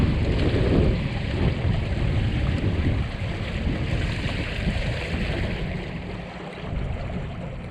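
Hobie Wave catamaran sailboat slapping and bouncing over small self-made waves on a mostly flat lake in high wind, with steady loud wind rush and water noise throughout.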